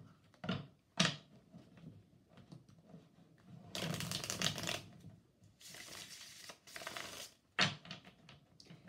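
A Rider-Waite tarot deck being handled and shuffled, sharp card snaps and riffles coming in short bursts, with a longer papery shuffle running through the middle, heard close and alone.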